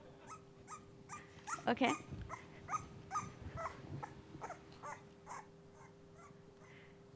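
A dog barks and yips several times in quick bursts, played back through speakers at a conference talk, with a person's voice briefly over it and a steady hum underneath.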